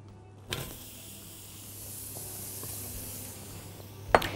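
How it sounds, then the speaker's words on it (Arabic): Onions hit a hot pot with a sharp crackle, then settle into a steady broad sizzle that lasts for several seconds before a few clatters at the end. "هحط البصل"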